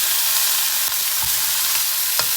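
Iraqi kebab frying in a pan, a dense continuous sizzle with occasional light knocks of turning, no talk.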